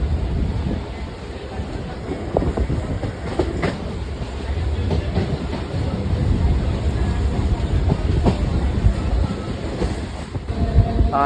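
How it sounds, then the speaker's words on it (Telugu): A MEMU passenger train rolls steadily along the rails between Dornakal and Bhadrachalam Road, a continuous loud rumble with rhythmic clatter and occasional clicks, with wind buffeting the microphone. "గాంధీపురంలో ఇప్పుడే స్టాప్ అయి మళ్ళీ స్టార్ట్ అయింది ట్రైన్"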